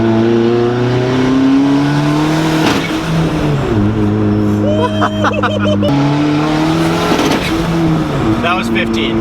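Turbocharged Honda Civic engine revving hard under boost with the wastegate unplugged, loud and close, the pitch climbing, cutting and climbing again in repeated pulls, with squeal-like hiss at the boost cuts and voices talking over it.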